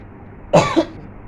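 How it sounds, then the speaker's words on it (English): A single short cough, close and clear, with a small second burst right after, in an otherwise quiet room. "I may cough a little bit."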